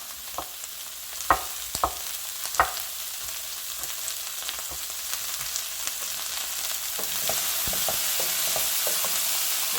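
Garlic asparagus sautéing in a pan, a steady soft sizzle throughout with a few sharp stirring clicks early on, the frying hiss growing slightly louder toward the end.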